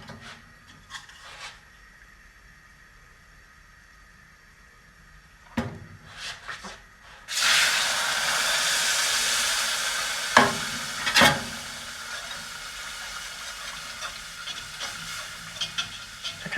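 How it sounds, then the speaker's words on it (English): Heavy whipping cream poured into a slightly scorched roux on a 1927 Quality range, with a sudden loud hissing sizzle as it hits the hot pan, then spoon knocks and stirring scrapes under the steady steam. "let's add the heavy whipping cream first."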